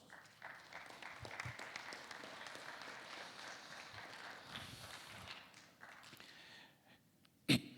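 Sustained applause from a university conference audience, steady clapping that carries on for several seconds before tapering off, ending with one sharp loud bump.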